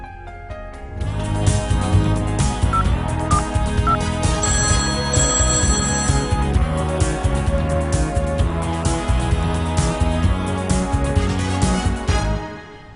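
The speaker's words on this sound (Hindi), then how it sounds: "लगाते हैं फोन।" A loud, steady electronic ringtone plays continuously for about eleven seconds with dense musical tones, then cuts off abruptly.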